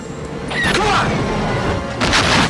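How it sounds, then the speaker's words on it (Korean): A helicopter explosion erupts with a heavy booming blast and crashing debris, loud and sustained, followed by a second surge of rumbling near the end. "헬기 폭발에 휘말려"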